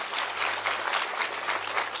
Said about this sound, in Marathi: टाळ्या द्या त्यांच्याकरता.